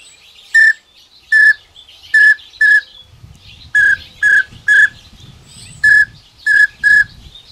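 Duck whistle call blown with the hole half covered to make a pintail note: about eleven short, clear whistled peeps in irregular pairs and groups, loud and close, with a low rumble of handling noise partway through.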